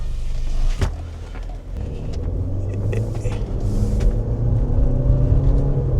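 A turbocharged 2013-2016 Buick Encore pulls away on a test drive, its steady low engine rumble and road noise building gradually and continuously as it accelerates, with a brief thump near the start.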